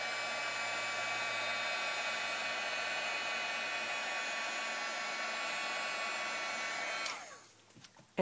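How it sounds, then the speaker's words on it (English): Heat tool blowing air over a glitter tab while crafting, a loud, steady whooshing hiss held for about seven seconds before it switches off and winds down. "And then I'm going to hit it with the heat tool one more time."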